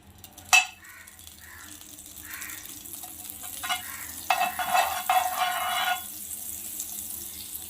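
Butter heats in a pan on a home stove before a homemade pizza goes in. A sharp clank opens, followed by soft intermittent crackles, then a louder stretch of fizzing sizzle in the pan before it settles again.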